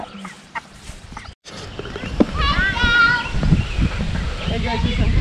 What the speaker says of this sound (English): We're watching chickens. There's eight chickens.